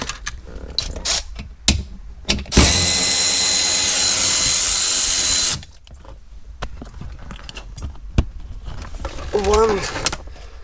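A 10mm airbag bolt comes out of a Mercedes CLK W209 dashboard under a power ratchet: one sustained whirring run of about three seconds, framed by scattered clicks and taps, with someone talking nearby.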